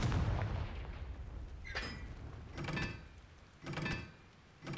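The Confringo fire spell cast repeatedly in Hogwarts Legacy, several sharp fiery blasts with booming tails in a loose rhythm, fairly quiet overall.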